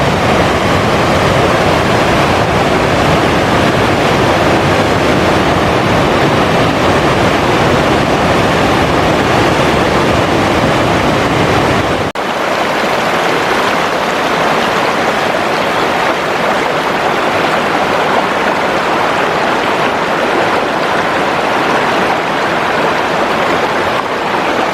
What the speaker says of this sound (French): Sacrée cascade là, hein.